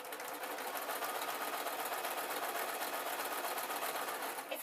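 A sewing machine runs steadily while quilting, a continuous close mechanical whir with a fast even stitching rhythm and no voices.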